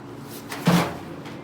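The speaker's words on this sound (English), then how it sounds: "the drum door has been sealed" A leather milling drum door, used to soften python skins, is shut and sealed with a single muffled thud and brief rattle, close and alone.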